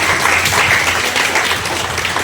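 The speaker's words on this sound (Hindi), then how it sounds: "जोरदार तालियां।" Loud, dense audience applause fills a Navratri dandiya prize-giving event, a steady wash of many hands clapping with no gaps or voices throughout.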